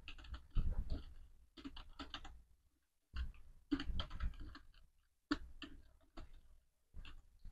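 Keys on a computer keyboard clatter in short, irregular bursts of quick clicks and taps while code is typed, close and fairly quiet, with brief silent pauses between bursts and no speech.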